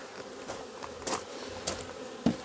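Honeybees buzzing around an open beehive during a varroa mite check, a steady close hum with individual bees droning past in louder swells.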